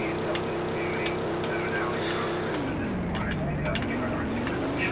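A race car engine accelerating in the Roblox game at the Circuit de Catalunya, a steady droning tone that rises and shifts pitch midway, under a voice talking throughout.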